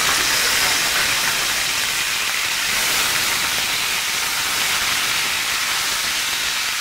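Boiled prawns dropped into hot oil in a pan with tempered spices, a loud dense hissing sizzle that holds steady and close the whole time, with no voices.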